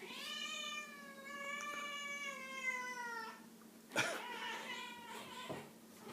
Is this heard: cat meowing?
yes